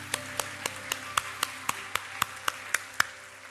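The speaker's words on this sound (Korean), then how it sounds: "우리 한 번 더 하나님께 감사와 영광의 박수를 드리겠습니다." About a dozen evenly spaced, sharp claps ring out at a steady beat inside a church, each crisp and moderately loud over a quiet room with a low steady hum, with no talking.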